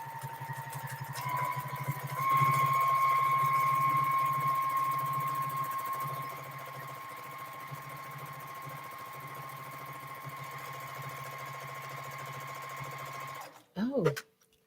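A domestic sewing machine stitches a quilt in a steady, continuous motor whine with a fast needle rhythm, running nearly the whole stretch before stopping abruptly near the end with a few clunks.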